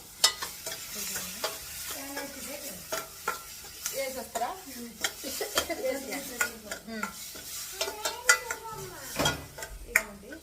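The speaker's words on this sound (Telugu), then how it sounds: "ఉల్లిపాయల కోసం ఇంకా తాలింపు పెడుతున్నాను" Onions sizzle in a hot tempering for tomato upma while a spoon stirs and scrapes against the pan in quick, repeated strokes, close and clear, with faint voice-like sounds in the background.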